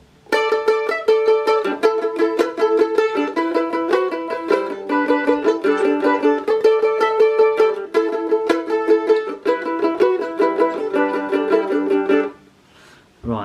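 A mandolin plays a song: a steady, bright run of picked notes and chords that is close and loud for about twelve seconds, then stops abruptly.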